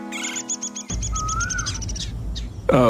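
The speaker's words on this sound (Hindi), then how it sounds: "ऊपर उस पेड़ पर कितनी सुंदर चिड़ियाएं बैठी हैं।" Birds perched in a tree give a quick run of repeated high chirps, followed by a few scattered tweets over a rumbling, noisy background.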